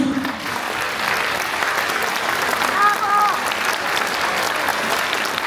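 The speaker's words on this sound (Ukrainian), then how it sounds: "Ще раз ваші аплодисменти." An audience at a concert applauds steadily throughout, a dense even wash of clapping with a brief faint voice near the start.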